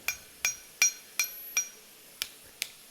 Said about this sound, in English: I'm using the peen of the hammer to help me create that radius.